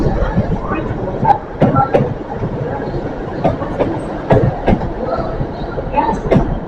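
A Great Western Railway train moves through Totnes station, its wheels clattering over rail joints with sharp clicks and squeals, loud and close, while an announcement voice runs faintly underneath.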